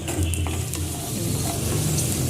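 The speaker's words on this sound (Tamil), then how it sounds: "இப்போ ஒரு டேபிள் ஸ்பூன் நெய் விட்டு அதில் ஒரு 10 முந்திரி ஒரு 10 கேஷ்யூன் இதில் போட்டு நம்ம வறுத்து எடுத்துக்கலாம்." Cashews fry in ghee with a constant close sizzle and faint scattered clicks of a spoon in the pan, with no voices.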